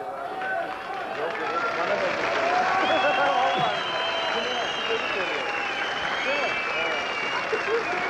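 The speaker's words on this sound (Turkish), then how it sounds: "mehriban için alkış yeterli mi?" Concert crowd at an outdoor Bodrum show applauding for the folk song Mihriban, a dense steady roar of clapping with scattered cheers and whistles, loud and sustained throughout.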